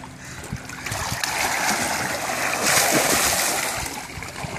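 Water splashes loudly and steadily as people bathe and swim outdoors in May, a broad rushing wash with churning bursts and faint voices underneath.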